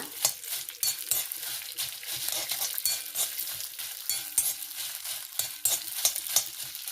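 Mustard seeds and fresh curry leaves fry in oil for a taro-leaf chutney, crackling and popping in a dense, continuous patter with small stirring scrapes.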